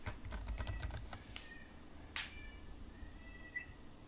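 A search is typed on a computer keyboard in a flurry of quick, quiet clicks, followed by a few sparse keystrokes and faint high chirps in a quiet room, with no voices.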